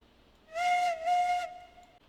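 A short, bright train whistle in a railroad video game sounds twice in quick succession, clear and alone, with the second blast trailing off into a faint held tone.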